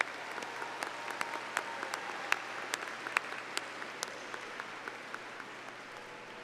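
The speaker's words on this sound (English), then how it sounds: "Graduates, let's give our family and friends a round of applause to thank them" Applause from family and friends at a Texas State University fall graduation ceremony, a sustained wash of scattered clapping with distinct individual claps popping out, moderately distant and fairly quiet, with no talking.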